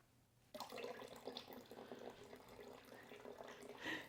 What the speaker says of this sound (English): just pour my ice cold beer right in the oil